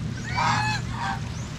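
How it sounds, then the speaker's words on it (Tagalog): A goose honks loudly and close by, a couple of nasal calls in quick succession over a low rumbling background. "Naligo agad yung gansa natin."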